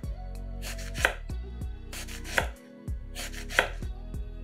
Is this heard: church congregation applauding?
no